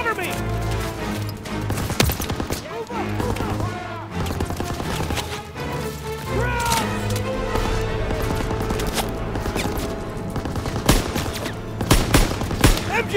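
Suppressive gunfire against a machine-gun nest in the World War II shooter Call of Duty: WWII: continuous loud rifle and machine-gun bursts with sharp cracks, under shouted soldier voices and battle noise.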